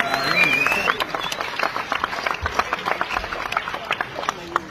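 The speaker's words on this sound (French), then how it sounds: "Ça s'applaudit ça, non?" Scattered audience clapping at a live performance, with sharp individual claps that come irregularly and thin out over the stretch, mixed with crowd voices and chatter.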